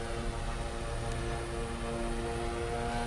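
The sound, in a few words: turboprop aircraft engine in video game Microsoft Flight Simulator 2024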